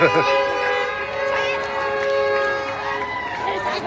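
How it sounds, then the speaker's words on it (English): A fire truck horn blares in the street during a large march, one long steady tone sounding over crowd noise and nearby voices. "Even the fire truck's honking."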